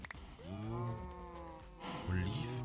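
Cows in the video game Minecraft give two drawn-out, close moos, one after the other, with no other sound.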